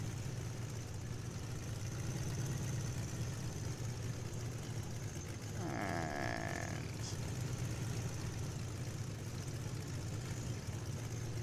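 A Boeing-Stearman Model 75 in a flight simulator idles while taxiing, a steady low engine drone throughout, with a brief brighter throttle swell near the middle.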